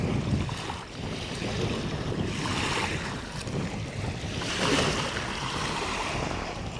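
Waves of the Ganges river lap against the sandy shore, heard as a continuous wash of water mixed with steady wind noise on the microphone, with no voices.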